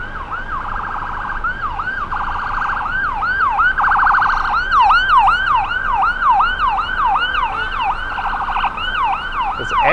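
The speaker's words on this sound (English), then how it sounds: "ambulance is trying to get through." Wailing ambulance siren sweeping up and down in rapid repeated cycles on a Toronto street in North York, loud and close, with traffic rumble underneath.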